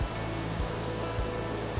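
Ocean surf on a rough day with meter-high waves keeps up a continuous broad roar of breaking water, loud and steady, with low rumbling pulses underneath and no voices.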